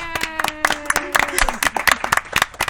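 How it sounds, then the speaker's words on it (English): Several people clap in a lively burst of applause while voices talk and cheer over it, at the finals of the 2016 Dragon Ball Z trading card game world championship. "a round of applause for everyone."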